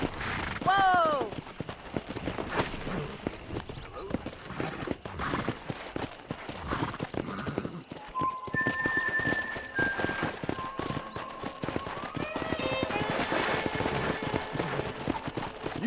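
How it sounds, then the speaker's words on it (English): Horses gallop with quick clip-clop hoofbeats in the Western video game Red Dead Redemption, joined by whoops, whistle-like calls and a loud game soundtrack, with voices speaking at moments. "Let's see if we can't wrangle some horses."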